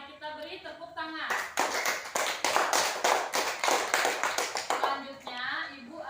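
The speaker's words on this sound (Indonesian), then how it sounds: "mari kita beri tepuk tangan" Pupils in a mixed-grade classroom applaud a group presentation with rapid, rhythmic clapping that lasts several seconds, framed by an adult voice speaking before and after.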